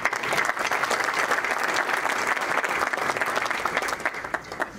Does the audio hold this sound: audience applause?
yes